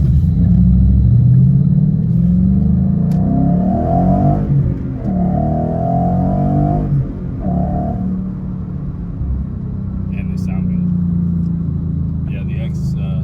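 A Mustang GT V8 with about 200,000 miles rumbles deeply at idle through an X-pipe, original cats, no resonator and MBRP mufflers, with a brief rev in the middle while someone talks over it.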